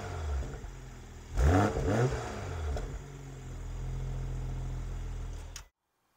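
BMW Z4 M40i roadster engine revving from idle, a deep low rumble that swells in a couple of quick blips, then settles back to a steady idle before cutting off.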